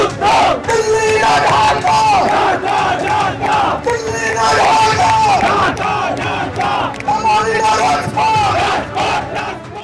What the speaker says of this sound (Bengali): সেখানে ভারতের বিরুদ্ধে স্লোগান উঠল